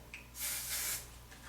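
A single short hiss of hairspray, about half a second long, sprayed close by in an otherwise quiet room.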